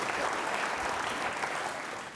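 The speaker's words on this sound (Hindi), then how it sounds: "तालियां जोरों से बजाइए मैम के लिए एक बार जोरदार तरीके से।" Audience applause at an organ-donation quiz show in Rajasthan: dense, steady clapping from a large crowd, fairly loud and sustained throughout, easing only slightly at the end.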